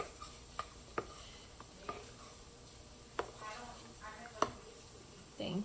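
Wheat pancake batter being mixed by hand in a bowl, scattered soft taps and scrapes of the utensil against the bowl at an irregular pace, fairly quiet with low room noise.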